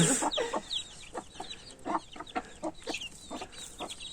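Hens with their chicks at a village coop, heard close up as a quiet series of short, uneven clucks and soft peeping calls.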